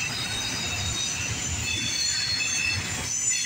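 A Ferromex autorack freight train rolls steadily past up close, a continuous rumble with high metallic wheel squeal ringing over it throughout.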